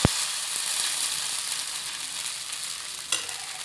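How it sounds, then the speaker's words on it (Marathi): Dosa batter hits a hot griddle with a sharp initial sizzle, then a continuous close frying hiss as it spreads, with a brief scrape near the end and no voices. "डोश्याचं बॅटर जे आहे ते आपण तव्यावर टाकून घेऊयात"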